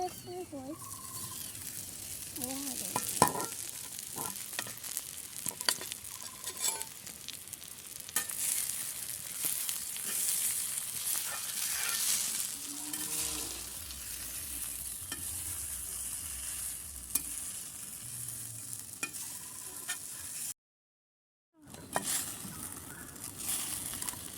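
Sago fries in a pan while a spoon scrapes and stirs it. Irregular sizzling and clattering go on throughout, with some faint background sounds and a brief dropout near the end.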